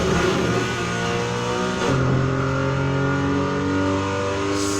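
Mitsubishi Lancer Evolution X 2008 engine and exhaust in the Need for Speed Heat racing game, a steady loud drone that shifts pitch as it revs up mid-clip.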